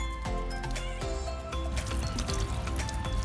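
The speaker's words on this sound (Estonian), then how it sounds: "Solar shower täiesti töös." Water gushes from an outdoor solar shower bag that has been warming in the sun for two hours, a close, continuous splashing and trickling with a few knocks and no talking.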